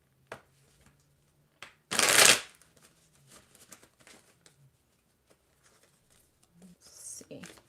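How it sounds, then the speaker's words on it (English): Tarot cards are handled during a reading: one loud riffling shuffle burst, then soft scattered card slides and taps in a quiet room, with a brief faint rustle near the end. "I'm just going to pull a card for you as it relates to career"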